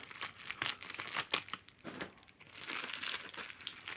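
A crinkly plastic AliExpress parcel is torn open and crumpled by hand, rustling and crackling in irregular bursts, close and moderately quiet, with no voices.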